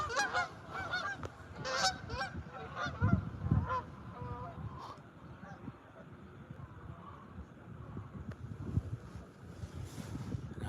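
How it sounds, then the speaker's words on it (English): Geese fly overhead in a V formation near docks, honking in a loose, repeated chorus that carries from a moderate distance over wind rumble, with a person's voice briefly mixed in. "There's the geese."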